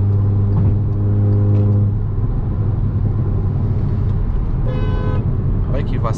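A loud, sustained car horn blares in busy traffic right at the start, then cuts off, leaving engine and road noise, with a second short horn toot near the end.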